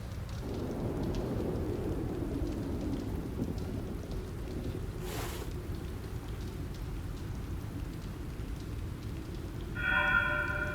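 Steady heavy rain with a distant thunder rumble in a video game storm scene, continuous and full throughout, with a brief brighter tonal sound near the end.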